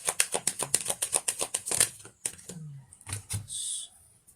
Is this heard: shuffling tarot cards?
yes